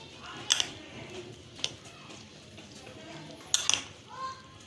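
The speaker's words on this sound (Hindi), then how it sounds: "इनको अच्छे से आप मिक्स कर लेंगे तमाम फल को" A spoon clinks against a bowl of creamy fruit chaat as the fruit is mixed, with three sharp metallic taps spread over a soft, low rustle of stirring and no talk.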